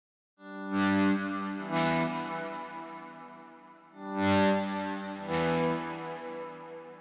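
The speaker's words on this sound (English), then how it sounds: "hit the power chord with the volume down, roll it in and slide down to the E" Two distorted electric guitar power chords each swell in from silence with the volume knob rolled up, ring out, then slide down to E, repeated twice with a slight echo.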